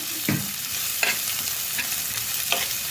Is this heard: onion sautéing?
yes